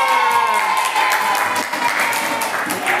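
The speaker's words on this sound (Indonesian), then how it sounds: "Oke, tepuk tangan dulu semuanya." A classroom group applauds together during a coding and AI lesson, a dense, steady wash of many hands clapping close by for about three seconds with no speech over it.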